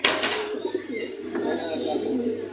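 Grizzle pigeons coo inside a pigeon store, soft throaty calls heard close over a busy background, with a voice talking briefly at the start.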